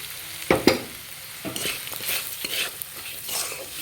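Spatula stirring fried semolina with vegetables and garam masala in a hot pan for semolina pulao, with scraping, sizzling strokes and two sharp knocks near the start, then steady frying hiss with soft stirring scrapes.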